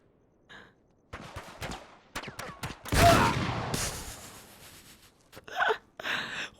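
Gunfire in Uncharted 3: Drake's Deception comes as scattered sharp shots and a short burst, mid-distance, between quiet gaps and grunting game sounds.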